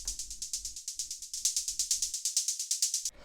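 Saturated techno hi-hat made from bandpass-filtered white noise, a fast steady train of bright, hissy ticks played alone and up close, with a faint low thump underneath for most of the loop.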